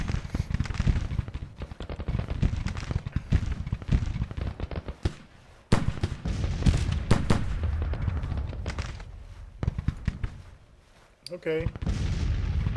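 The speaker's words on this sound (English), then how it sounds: "the artillery is shooting at something. 12-pound field guns and 12-pound howitzers" Repeated booms of 12-pound field guns and 12-pound howitzers firing in a Civil War strategy game, irregular thuds and crackling blasts near and far in rapid succession, with a brief spoken word over them.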